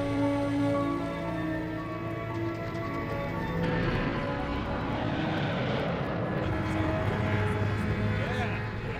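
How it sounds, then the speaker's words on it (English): Airliner engines roaring during takeoff in a movie scene, a steady loud whine and rumble that swells and thickens midway, with voices talking over it. "Flight attendants, please prepare for takeoff."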